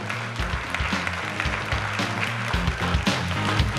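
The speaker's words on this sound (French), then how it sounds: "Et on peut applaudir le Projet A Festival." Audience applause fills an awards ceremony hall, a dense continuous wash of many hands clapping, steady and fairly loud throughout.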